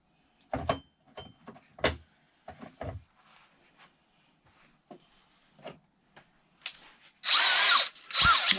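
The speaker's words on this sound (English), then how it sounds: "I'm going to drill a pilot hole first" Several short bursts of a power drill spinning up, then two longer loud runs drilling a pilot hole for an RV sink replacement, close and isolated.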